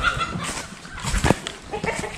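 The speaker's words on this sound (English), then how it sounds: "Chickens are fighting." Chickens squabbling on a farm during chores, with scattered squawks, clucks and brief flurries at close range, fairly loud and irregular with no talk over them.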